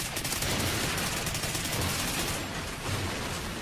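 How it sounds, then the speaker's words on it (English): Continuous gunfire and explosions from the Call of Duty Ghosts video game, in a Blitz match on the FreeFall map, form a dense, loud barrage with no pauses and no talking. "There's just like explosives and shit going off continually"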